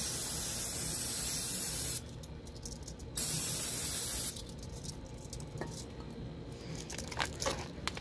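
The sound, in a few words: spraying cleaner on a wheel bearing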